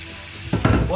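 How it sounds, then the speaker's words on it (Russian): Chopped onion drops into hot oil in a pan alongside lean bacon, a brief sizzle bursting up loudly about halfway through after a quiet start. "отправляем сюда обжариваться лучок"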